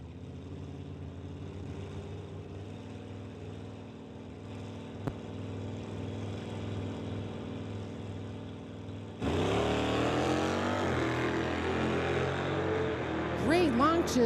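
Drag race cars, an 84 Oldsmobile against a 782 Chevelle, launch at an NHRA Summit ET Mission finals strip: a steady engine drone jumps to a loud, rising roar midway, with a faint whine near the end.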